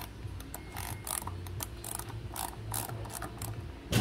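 A 6mm Allen key loosens the seat bolt on a Rower R300, giving a steady run of small ratcheting, mechanical clicks close up, with no talking.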